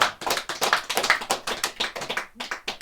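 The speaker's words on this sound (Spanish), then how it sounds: "Aplausos para nuestro Dios" A church congregation claps in praise, a close, loud run of rhythmic handclaps in quick bursts with brief pauses, no voices heard.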